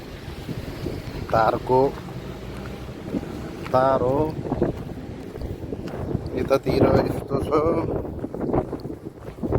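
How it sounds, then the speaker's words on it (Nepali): Gusty wind buffets the microphone with low rumbling bursts, near and fairly loud, while people talk intermittently over it. "हावा चलिआएको छ, भइरहेको छ"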